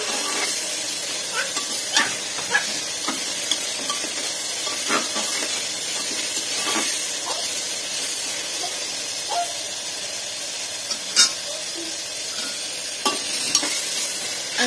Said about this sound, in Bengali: এখন লবণটা দেওয়ার কারণে পেঁয়াজটা তাড়াতাড়ি গলতেছে।